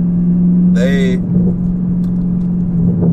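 Chevrolet Camaro ZL1 engine running with a steady, loud low drone throughout, briefly joined by a short high tonal whine near the start.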